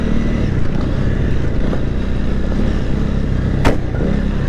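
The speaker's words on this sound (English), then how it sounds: "I can hear a KTM on my right." An off-road KTM motorcycle rides nearby on a rural green lane, its engine a steady, loud drone that runs through the whole stretch, with one brief sharp burst near the end.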